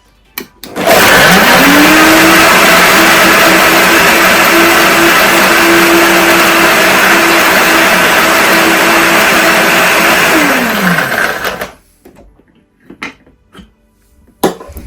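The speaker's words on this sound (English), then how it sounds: "I'm going to be blending for 10 to 15 seconds." A high-power blender crushes ice for a peach colada mocktail, spinning up with a sharp rise into a loud, steady whirring roar for about ten seconds before winding down, followed by a few faint knocks.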